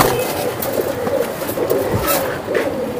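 Old Bagha racing pigeons coo in low, repeated rolling calls, close and steady, with faint background noise and no talking.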